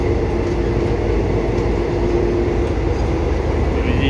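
A Thai third-class rapid train runs with a steady, loud rumble of wheels and carriage noise, a continuous dense roar with faint rattles and no talking.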